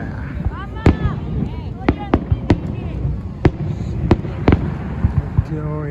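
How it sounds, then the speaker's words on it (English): Fireworks bursting at a Victoria Day celebration in Canada, with sharp, loud explosive bangs spaced irregularly over a steady crowd murmur, some bursts followed by crackling and a whistle, and voices talking in the background. "beautiful fire works in Canada on"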